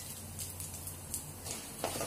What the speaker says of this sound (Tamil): எண்ணெய் காஞ்சதும் கடுகு சேர்த்துக்கோங்க கடுகு பொரிஞ்சதும் கடலைப்பருப்பு உளுத்தம்பருப்பு